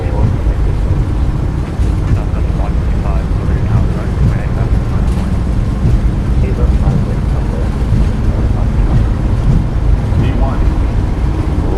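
Boeing 737 MAX 8 engines roaring at takeoff power in Microsoft Flight Simulator 2024, a steady, loud broadband rumble and rush that persists unbroken, with cockpit voices calling out over it.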